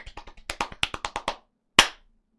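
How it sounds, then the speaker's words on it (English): A quick burst of about a dozen hand claps from a few people in a podcast setting, followed after a short pause by one louder single clap, close and dry. "Do you want to clap as well"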